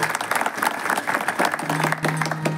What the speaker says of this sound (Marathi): आपण सगळ्यांनी एकदा टाळ्या वाजवून त्याचं स्वागत करायचं